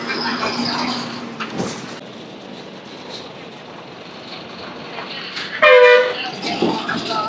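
A train rumbles through Rajahmundry railway station amid broad rail noise, with a brief loud horn-like blast near the end.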